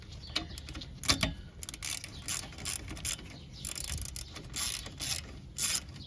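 Ratchet with a 10mm socket tightening the ABS harness bracket on a 2009 Ford Escape strut, giving a run of quick clicking pawl bursts close by over a low background hum.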